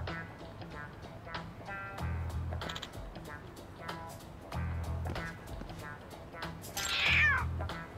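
An angry stray cat in Lost Judgment lets out a harsh, rising caterwaul near the end, following fainter meows, with someone speaking over steady game background sounds.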